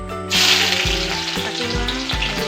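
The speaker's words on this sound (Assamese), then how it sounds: "ইয়াত দি লৈছোঁ তেজপাত" Bay leaves crackle and sizzle in hot oil for a spicy Assamese hotel-style meat dish, a loud steady fry with a few low thumps, with no voices.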